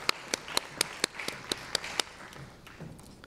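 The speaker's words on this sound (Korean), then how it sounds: "하나님께 감사와 영광 박수 올려드리겠습니다" A church congregation claps in praise, a steady run of distinct claps that thins and fades after about two seconds into quiet room sound with a few scattered taps.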